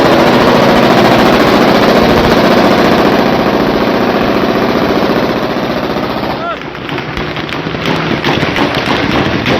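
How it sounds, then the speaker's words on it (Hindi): Loud, continuous gunfire and blasts in violence in Syria, a dense roar of rapid shots that thins out toward the end, with voices mixed in. "गोलियों की आवाज, धमाकों की आवाज इस वीडियो में आपको सुनाई देगी"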